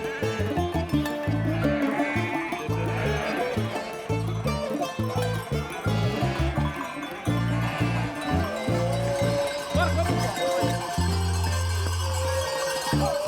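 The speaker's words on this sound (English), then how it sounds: "The sheep and goats do not always happily walk the way intended for them, but prefer inaccessible paths instead." Herds of sheep and goats on Crete bleating together while bells clank, a dense, continuous wall of overlapping animal calls and jangling that stays loud throughout.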